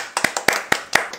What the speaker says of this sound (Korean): 일단 박수 한번 치고